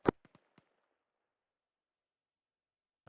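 Suppressed sniper rifle shots in the Arma 3 military game: one sharp crack followed by three quick fainter pops, then near silence until another shot at the very end.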